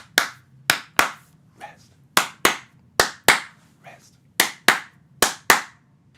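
Group hand clapping in a samba rhythm, sharp claps in short syncopated bursts separated by pauses, with a voice calling out counts between them.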